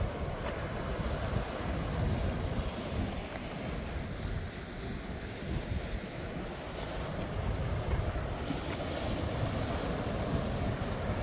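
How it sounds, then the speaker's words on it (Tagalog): Water currents and waves wash against a rocky shore at Devonshire Bay, Bermuda, as a continuous churning rush heard close and fairly faint, mixed with wind buffeting the microphone. "So yung current ng tubig papalakas na siya."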